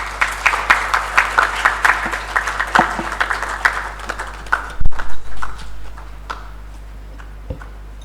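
An audience at a business roundtable breaks into rhythmic clapping that stays steady for several seconds, then tapers away, followed by a few isolated thumps.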